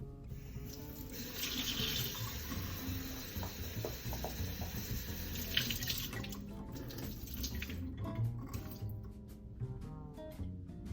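Tap water runs steadily into the base chamber of a stovetop espresso coffee maker (cafetera), a continuous close splashing rush that lasts throughout and thins toward the end, with light clinks and no talk.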